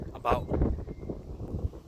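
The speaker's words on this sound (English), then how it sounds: "Sorry for the wind. It's pretty windy right now." Gusty wind buffets the microphone with low rumbling bursts while a person talks over it.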